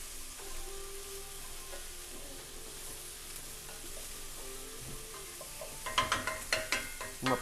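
Onions go into a hot pan and begin frying, a steady soft sizzle that swells into louder crackling bursts and stirring scrapes toward the end, close by with no one talking.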